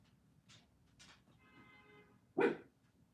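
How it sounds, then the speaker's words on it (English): A dog close by gives one loud, sharp bark after a few softer yips and a whine, over a quiet room. "My dog came over here."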